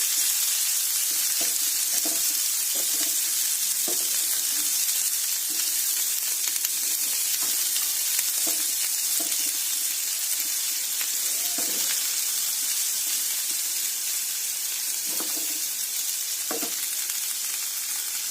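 Mixed vegetables with spring onions fry over a very low flame, a continuous close sizzle broken by light stirring clinks and scrapes throughout, no talking.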